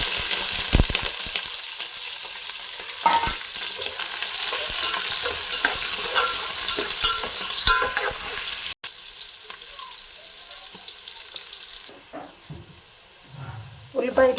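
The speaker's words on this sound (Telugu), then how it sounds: "ఉల్లిపాయ ఇట్లా మంచిగా వేగినాక" Onion, carrot and green chillies fry in a pan for bagara rice and paneer curry, a steady loud sizzle with scraping stir strokes throughout, easing quieter toward the end.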